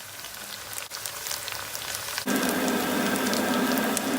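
Bulgur and onions toast in a pot, giving off a dense, steady crackle and sizzle that grows suddenly louder partway through and then holds close and continuous.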